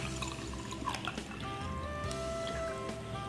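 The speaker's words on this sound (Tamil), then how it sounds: "இந்த அளவுக்கு தண்ணி ஊற்றிக்குங்க." Water poured into a glass vessel, a steady trickling and dripping pour with bright splashy ripples, close and continuous for a few seconds with no talking.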